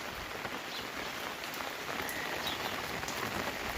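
Rain falls steadily on a village garden, a soft, even patter of drops on surfaces with no voices.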